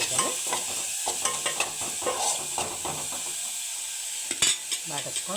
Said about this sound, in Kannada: ಮೂಲಂಗಿ ಸ್ವಲ್ಪ ಹಸಿ ವಾಸನೆ ಹೋಗುವವರೆಗೂ ಇದನ್ನು ಬಾಡಿಸ್ಕೊಂಡು